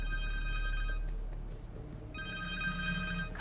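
A cell phone rings in Marvel's Spider-Man 2 on PS5, two bursts of a trilling electronic ringtone separated by a short gap, fairly quiet over low background game ambience.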